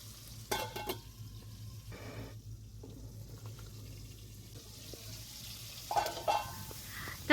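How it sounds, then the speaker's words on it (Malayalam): Tomatoes sauté in hot oil with cinnamon, cloves and cardamom for a homemade mutton biryani, giving a soft, steady sizzle broken by a few louder stirring scrapes and clatters, with no talking. "അതേ എണ്ണയിലേക്ക് നമ്മൾ പട്ട, ഗ്രാമ്പു, ഏലക്ക ഇതെല്ലാം ഇട്ട് തക്കാളി നല്ലപോലെ ഒന്ന് സോഫ്റ്റായിട്ട് വഴന്ന് വരട്ടെ"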